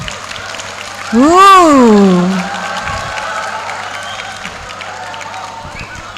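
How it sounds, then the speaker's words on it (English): Audience at a TOEFL tips seminar claps and cheers after a voice lets out a drawn-out exclamation; dense, steady clapping continues at moderate level to the end. "big applause to your friends."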